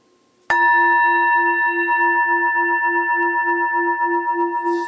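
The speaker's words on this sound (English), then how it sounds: "Let's compare it to the singing bowl." A singing bowl is struck once and then rings on alone in a long, steady tone with layered overtones and a slow, pulsing wobble throughout.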